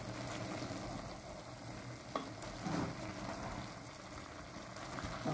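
Food simmering on low heat in a pot is stirred, giving a soft continuous sizzle and bubbling with scraping movements and a single sharp clink of the utensil against the pot.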